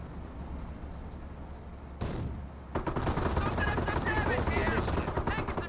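MG42 machine gun firing in the video game Company of Heroes, a rapid dense burst of gunfire that kicks in after a brief lull and continues steadily, with battle noise throughout.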